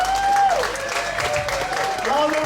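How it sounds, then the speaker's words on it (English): An audience at a poetry slam in Bali applauds the finalists, a steady crowd clapping layered under cheering and loud voices, including a person's tonal shouting. "Guys, please give big applause for all the finalists."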